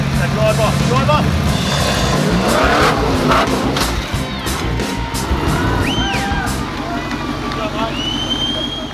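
A four-wheel drive truck climbs a rocky off-road track at the Tuff Truck Challenge, its engine roaring and revving loudly throughout, with tyres scrabbling over rock and a voice talking over the din.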